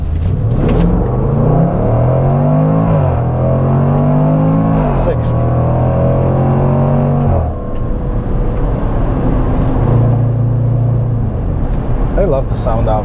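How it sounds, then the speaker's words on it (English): A 2021 Range Rover SVR accelerates hard from 0 to 60 mph, its loud engine rising through several gear changes from the cabin, with a voice talking over the roar. "see how this car is gonna go from 0 to 60"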